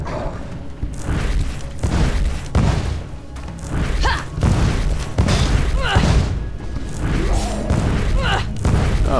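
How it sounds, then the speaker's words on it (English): Fireball spells cast repeatedly in the Path of Exile beta, with a rapid string of loud booming thuds and impacts, one after another, over continuous game sounds. "use my mana potion so I can keep spamming fireballs"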